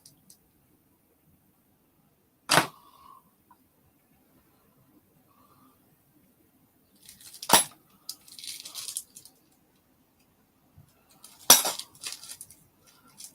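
Small metal priming tools clink and rattle as they are picked up and set down, three short bright bursts of metallic clatter separated by long quiet gaps, close by.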